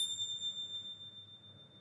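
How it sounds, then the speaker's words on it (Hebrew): A storyteller's hand bell struck once and left ringing, a clear sustained high tone that slowly decays over a quiet background. "ותקשיבו לצליל של הפעמון. וכשאני אצלצל, תראו כמה זמן אתם ממשיכים לשמוע אותו."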